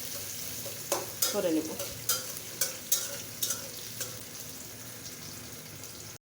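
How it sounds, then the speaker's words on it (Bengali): Chopped onion and garlic fry in a pan for jute-leaf bhaji, a soft steady sizzle with a cluster of sharp spatula scrapes and clicks early on, then a calmer hiss. A brief voice is heard near the start. "পেঁয়াজ কুচি রসুন কুচি দিয়ে এটা ভেজে নিব, ব্রাউন কালার"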